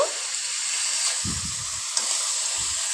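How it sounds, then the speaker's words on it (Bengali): Slit green chilies frying with egg in a pan, a steady bright sizzle with a few soft low stirring thumps, close up, and no talk. "আর দিয়ে দিচ্ছে চেরা কাঁচামরিচ কয়েকটা একটু নেড়ে চেড়ে নিয়ে"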